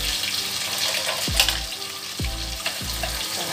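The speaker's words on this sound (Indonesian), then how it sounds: "Nah, ini kita tumis ya, menghilangkan kandungan airnya." Spice paste (bumbu) is stir-fried in a pan, a loud close sizzle with a few sharp scraping strokes of a utensil recurring about once a second.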